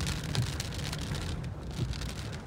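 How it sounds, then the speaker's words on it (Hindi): Heavy rain pours steadily onto a hill path outdoors, a dense, continuous hiss of drops close around the listener with no speech, holding at an even level throughout. "बारिश तो बढ़ती जा रही है भाई,"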